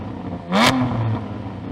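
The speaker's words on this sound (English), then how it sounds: "so go on Jamie, rev up your car." Lotus Emira fitted with a custom Larini exhaust gives one short, loud rev that rises sharply and falls away, over a steady idle rumble.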